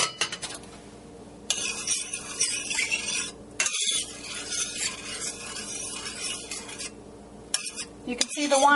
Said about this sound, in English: the wine starting to cook off now